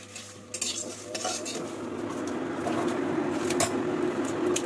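Whole spices for a sweet-sour mango pickle are stirred and fried in oil, with close metallic scraping and clinking of a utensil against the pan over a growing sizzle, and no talking.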